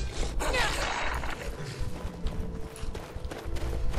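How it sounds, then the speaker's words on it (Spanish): Horse hooves clip-clopping in Skyrim, a quick uneven patter of hoofbeats close by over a low rumble, with a brief rustle early on. "Por aquí tenemos un caballo."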